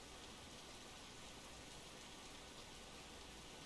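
Steady rain pours in the Russian Fishing 4 video game on the Yama River, a dense, even hiss of drops on water and surfaces that carries on unbroken throughout, with no voices.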